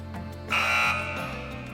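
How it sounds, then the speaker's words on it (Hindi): A single harsh electronic quiz show buzzer blares for about half a second over a sustained background tone, then fades back out. "चलें, बज़र्स एनेबल कर रहा हूँ।"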